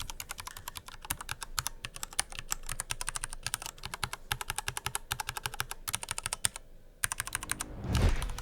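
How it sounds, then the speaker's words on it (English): Fast, steady typing on a mechanical keyboard fitted with test keycaps, close and crisp with a rapid clatter of keystrokes, ending in a heavier thump. "they sound like double shot PBT keycaps"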